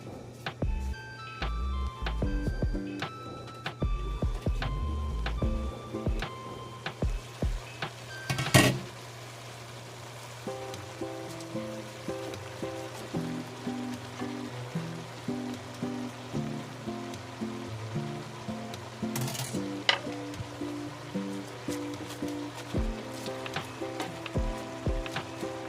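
Cabbage frying with pork and mixed vegetables in a pan, a steady soft sizzle with a few sharp clatters, under background music.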